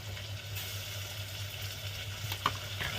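Tomatoes sautéing in a pan sizzle with a steady, fairly quiet frying hiss throughout, with a few faint stirring scrapes near the end and no voices.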